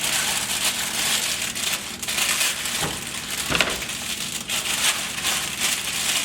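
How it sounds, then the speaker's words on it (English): Frozen steak hitting a hot pan on a stovetop burner gives a steady, crackling sizzle that holds close and fairly loud throughout, with brief sharper pops and crinkles. "Turn your burner on, and you input your steak"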